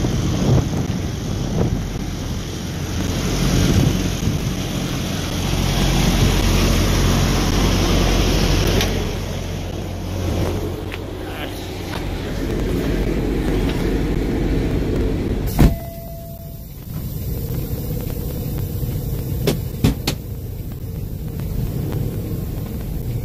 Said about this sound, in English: The yard spotter's coming in with the trailer.